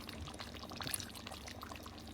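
Coconut milk pours in a faint, steady trickle into a cooking pot of potatoes in a sambal sotong dish, the quiet liquid stream running throughout.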